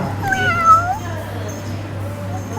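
At a cat cafe in Nakhon Pathom, a cat gives a clear, drawn-out meow and then a softer follow-up mew, close by, over a low steady hum of room noise.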